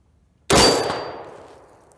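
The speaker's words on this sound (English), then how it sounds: "12 inch gong." A bullet strikes a 12-inch steel gong target on a private shooting range, producing one sharp metallic clang that rings out and decays over about a second and a half, with no talking.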